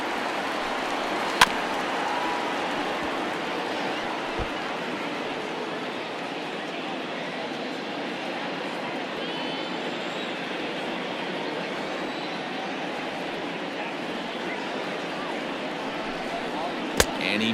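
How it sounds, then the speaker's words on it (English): Baseball stadium crowd in MLB The Show 20 rises on a full count: a steady, far-off roar that holds throughout, under a commentator's talk, broken by a couple of sharp clicks. "Crowd gets up for the 3-2."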